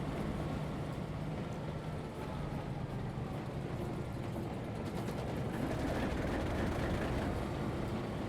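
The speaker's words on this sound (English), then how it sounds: "I like that you can you hear the engines kind of like kick in and go into idle and whatever like that" Diesel engine drone from a GP9 locomotive in a train simulator game, a steady low rumble that swells slightly toward the end, with no talking over it.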